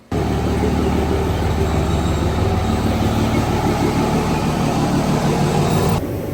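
A lifted pickup truck pulls into a shop, its engine giving a loud, steady rumble that holds for about six seconds before dropping off, with no voices.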